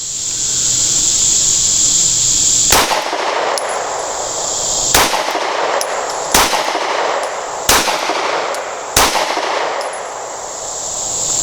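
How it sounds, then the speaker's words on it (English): Five sharp Springfield Armory P365 pistol shots at an outdoor range, spaced a second or two apart, each a close crack over a steady hiss, with a faint metallic ring after some. "Okay, now we're going to shoot the P365."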